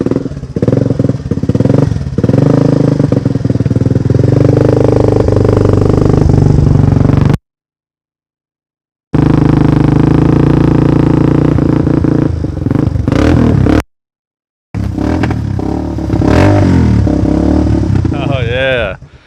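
A Honda TRX250X ATV fitted with a DG exhaust revs repeatedly, its engine rising and falling in loud, rough bursts close by, broken by two short silent gaps, with some clatter mixed in.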